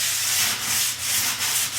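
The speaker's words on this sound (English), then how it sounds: "So I'm going back to the sandpaper" Sandpaper rubs back and forth against a ski sidewall in a few steady, close strokes, a loud hissing scrape rising and falling with each pass.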